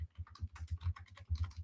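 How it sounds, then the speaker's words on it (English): Rapid clicking keystrokes on a computer keyboard, close and quiet, in a brief burst. "I want to type in my Patreon."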